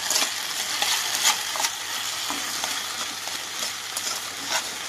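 Salted curry stirred while it fries in a pan. A steady bright sizzle runs throughout, with faint scraping strokes from the spoon close up and no voices.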